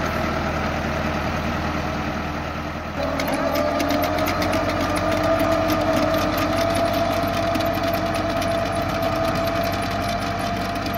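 A tractor pulling a seeder machine while sowing corn in a field, its engine droning steadily and continuously up close with a busy mechanical clatter, a slight shift in tone partway through.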